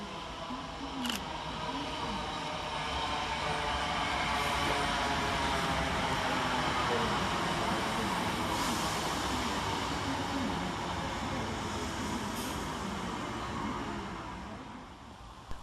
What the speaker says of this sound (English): Next to arrive at the station is 319-379, with the 1441 Northern service from Liverpool Lime Street to Crewe via Manchester